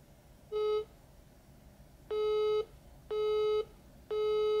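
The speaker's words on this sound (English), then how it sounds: "reject the call so that the caller will hear a line busy sound" A phone line busy tone reaches a caller whose call was rejected: four loud, clear electronic beeps, the first short and the rest longer, separated by gaps of near silence.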